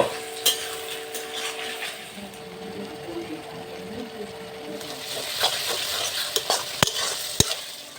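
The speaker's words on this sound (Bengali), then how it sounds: "এখনো কি গরম হয়নি কড়াই পেঁয়াজগুলি দিয়ে দিচ্ছি" Onions fry in a hot kadai over a clay stove, a steady close sizzle with occasional stirring scrapes and sharp clinks of a utensil against the pan.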